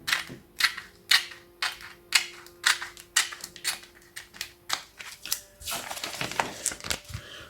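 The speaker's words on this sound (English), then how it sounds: "See if I can get a straighter cut this time." Scissors cut through a plastic comic bag in a rapid series of about fifteen sharp, close snips, crisp and evenly paced, speeding into a denser crinkling flurry toward the end.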